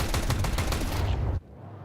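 A dense, rapid spray of gunfire in a Counter-Strike 2 match at the StarLadder Budapest Major 2025, loud and continuous for over a second before cutting off abruptly into quieter ambience.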